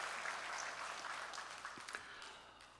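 Congregation applause during a Sunday church service, a faint, dense clapping that fades toward the end.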